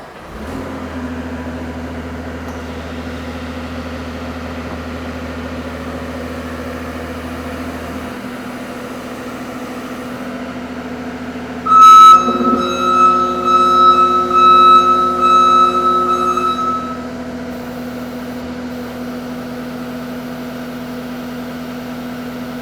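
A skid steer fitted with a Danuser Hornet post driver idles with a steady engine drone. Midway, a louder stretch of rising engine and a tonal reversing beep lasts several seconds, then the engine settles back to idle.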